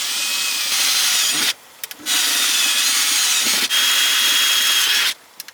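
Metal clutch and brake pedals for a Nissan 350Z being threaded, a loud continuous grinding tool sound in three long bursts separated by brief pauses.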